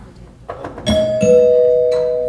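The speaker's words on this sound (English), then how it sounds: "Doorbell" A doorbell chimes two clear tones that ring out and slowly fade, preceded by a few soft knocks or clicks.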